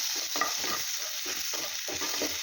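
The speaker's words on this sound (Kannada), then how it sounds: "ಈಗ ಚೆನ್ನಾಗಿ ಇದನ್ನು ಫ್ರೈ ಮಾಡ್ಕೊಳ್ಳೋಣ." Masala powder and salt fry in a pan over a low flame for beetroot paratha, stirred steadily. Rhythmic spatula scrapes and strokes sound over a soft, constant sizzle, close up and with no voices.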